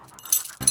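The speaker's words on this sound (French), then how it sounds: "Ne te laisse pas impressionner par ce chien méchant, tu vois?" A dog pants and whimpers in short breathy bursts, close and fairly loud, with a brief lull before a stronger burst at the end.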